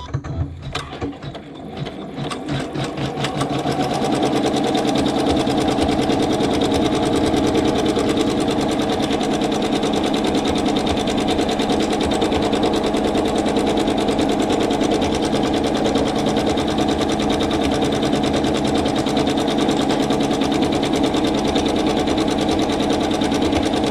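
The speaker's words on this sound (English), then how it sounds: "the first step is the placement stitch. So we'll go ahead and stitch that" A sewing machine runs steadily and close for about twenty seconds, stitching the placement line on a quilt block, with a brief uneven start before the motor settles into a continuous whir.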